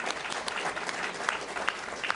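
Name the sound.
applause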